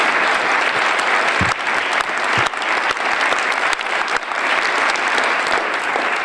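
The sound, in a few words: applause for Lori Brown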